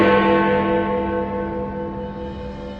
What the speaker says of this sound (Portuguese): E então ressoa uma badalada profunda.